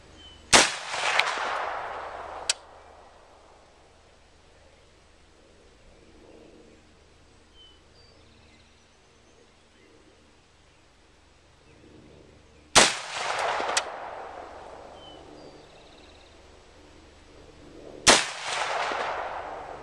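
Rifle shots ring out at an outdoor shooting range from a Del-ton AR-style rifle with Magpul MOE furniture firing Hornady Steel Match ammunition. Three loud, sharp reports are spaced far apart, each trailing a long echoing decay, with quiet ambience between.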